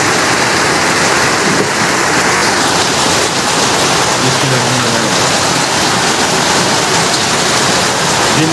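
Heavy rain pours down in a dense, continuous roar that fills the whole clip, loud and close, with no voices over it.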